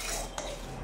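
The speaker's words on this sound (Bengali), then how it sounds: "তো এটাকে আমি নাড়তে নাড়তে চিনিটা গলুক, গলে একটু ব্রাউন ব্রাউন কালার হবে" A spoon makes a quick metallic scrape against a pan while sugar is stirred and caramelized for semolina halwa, one short faint clink in a quiet kitchen.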